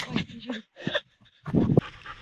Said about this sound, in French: la chienne qui galope partout